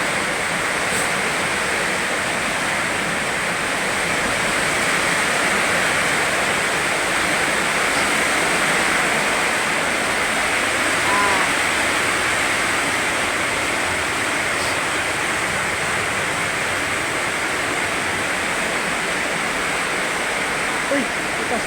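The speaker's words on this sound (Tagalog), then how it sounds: "Ang lakas talaga guys ng ulan guys." Heavy rain pours down steadily with strong wind in Dasmariñas, Cavite, in a dense, unbroken roar that never lets up.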